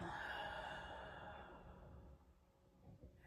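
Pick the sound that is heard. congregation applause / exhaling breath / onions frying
exhaling breath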